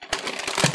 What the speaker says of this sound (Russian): И сегодня откроем вот такой большой пакетик.